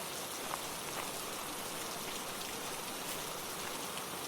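Steady rain falls in a continuous even hiss, with scattered drops ticking on surfaces and no voices over it.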